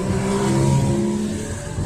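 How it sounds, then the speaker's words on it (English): A motorcycle engine revs hard and roars past close by, loud and sustained, with a rising then falling pitch as it speeds away. "that guy's working on his early demise on the motorcycle"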